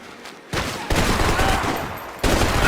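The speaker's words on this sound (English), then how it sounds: "Laying down fire!" Dense bursts of gunfire crackle through a Max Payne game cutscene, a close, loud fusillade of overlapping shots that surges in waves with no voices over it.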